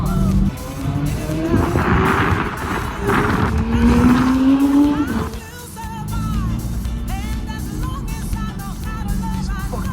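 Corvette C5 and supercars powering through canyon corners, loud engines revving with rising and falling pitch through gear changes, then a steadier engine drone as the cars pass and recede.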